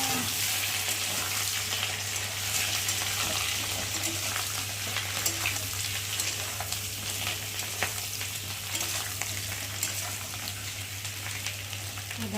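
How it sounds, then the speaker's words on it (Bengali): Parboiled potatoes fry in hot oil with bay leaf and panch phoron, a steady close crackling sizzle with occasional stirring scrapes, continuous throughout and no talking. "এখন আমি এই যে সিদ্ধ করে রাখা আলুগুলোকে দিয়ে ভালো করে ভেজে নেবো তেলের মধ্যে।"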